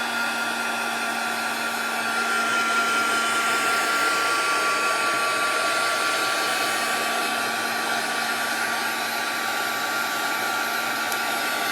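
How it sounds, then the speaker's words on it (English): Heat gun drying ink on masking tape, a loud, steady whirring blower with a constant hum, running unbroken close by. "let me see if I can run the heat gun a little bit and get this dry."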